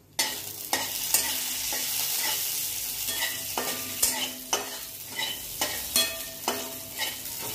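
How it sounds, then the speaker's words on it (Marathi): Chopped cashews and almonds roast in ghee in a kadhai, sizzling steadily up close while a spatula stirs and taps the pan in regular scrapes. "आता हे कढईत तूप टाकलंय, तर हे काजू बदाम आहे, याचं मी हे करून घेतलंय बारीक. तर याला आपण भाजून घेऊ थोडंसं."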